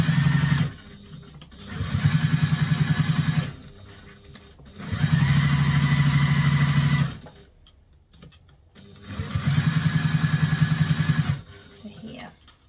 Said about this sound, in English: Now we're going to sew over the tape.